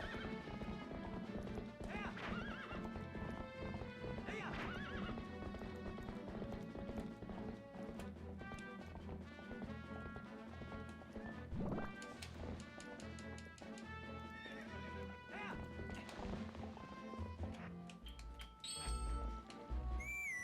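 Horse hooves clip-clop at a gallop amid busy game music and effects in The Legend of Zelda: Twilight Princess, with a loud whinny near the end.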